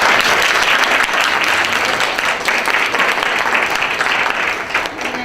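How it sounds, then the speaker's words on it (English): An audience applauds after a conference presentation: dense, loud, sustained clapping from many people that continues steadily for several seconds before easing slightly at the end. "big round of applause for you"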